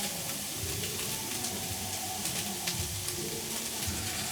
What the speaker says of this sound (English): I just want to put some cooking oil to just start now frying it with that